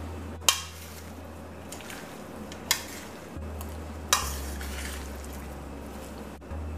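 A spoon stirring seasoned moringa greens with black shrimp in a pot: a few sharp knocks against the pot's side over a faint, steady low sizzle, quiet and close, with no talk.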